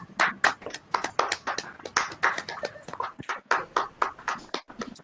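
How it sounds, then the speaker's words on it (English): Applause comes through unmuted microphones during an online orientation session, heard as a few people clapping in uneven, compressed bursts with a choppy, pulsing rhythm. "You may feel free to unmute your mic and applaud sir for his time and for his inputs."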